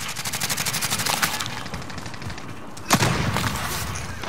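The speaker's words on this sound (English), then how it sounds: "they still shooting at me, man" Enemy gunfire in the Call of Duty: Modern Warfare video game, a rapid machine-gun burst with evenly spaced shots opening the clip, then continued firing and a sharp louder blast near the three-second mark.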